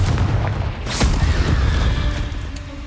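Confringo blasting spell explosion in the Hogwarts Legacy video game: a sharp close boom at about one second, with rumbling game sounds continuing around it.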